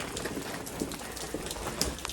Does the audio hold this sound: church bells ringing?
no